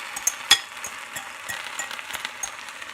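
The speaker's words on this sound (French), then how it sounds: "ce qu'on peut faire, c'est verser notre mélange à base de farine de pois chiche sur les orties" Chickpea flour batter hits softened nettles in a hot pan with a soft steady sizzle, small pops and one sharper crackle near the start, close and fairly quiet with no talking.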